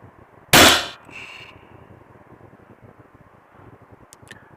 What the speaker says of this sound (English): Next, I'll be launching 10-gram steel ball, PVC coating.